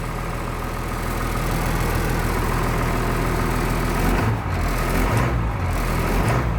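A 1996 Blue Bird bus engine idles steadily at close range, a continuous low rumble with a brief dip partway through.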